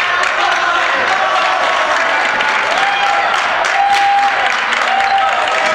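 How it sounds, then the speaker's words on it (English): High school basketball crowd in a gym applauding a defensive play, with steady loud clapping and cheering sustained throughout and faint voices mixed in. "Crowd letting Marine City know they appreciate that defense."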